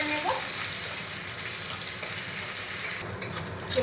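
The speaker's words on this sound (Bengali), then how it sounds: "পেঁয়াজটাকে একটু ভাজা ভাজা করে নেব" Chopped onion sizzles in hot oil in a pan, a steady, fairly quiet frying crackle with an occasional faint stirring clink.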